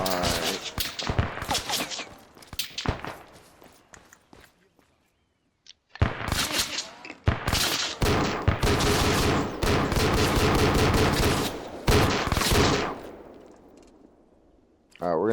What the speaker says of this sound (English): It sounds like maybe a shotgun